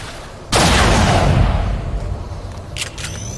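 A single loud gunshot rings out in XCOM 2, a sharp close crack followed by a long rumbling tail that fades over a few seconds, with a faint metallic clink near the end.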